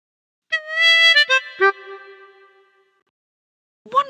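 Harmonica notes from the Lamb Chop Loves Music video game play a short melodic phrase with a few reedy tones that fade out, followed by a brief faint sound near the end.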